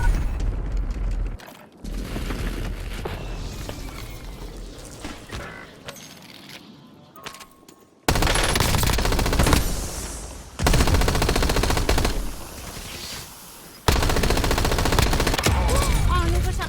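Video game gunfire, bursts of rapid automatic shots and heavier blasts in loud, dense stretches broken by short pauses, with faint talk underneath.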